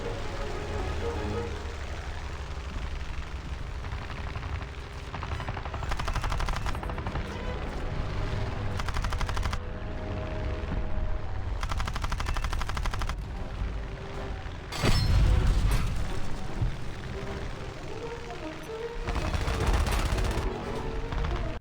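Aircraft machine-gun fire in War Thunder Mobile, sustained rattling bursts over a droning engine, loud and close, with several pauses and a heavier burst partway through.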